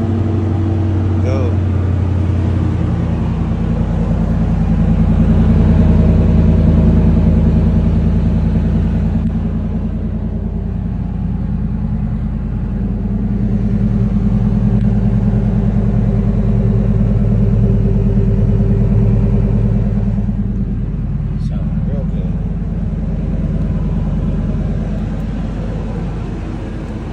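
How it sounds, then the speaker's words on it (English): A truck engine runs at idle with a heavy, steady low rumble that swells and eases slightly over nearly half a minute, loud and close, with no speech. "I gotta go turn the truck on"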